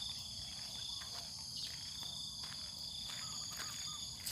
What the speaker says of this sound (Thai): ได้ยินเสียงบ่จิ้งหรีด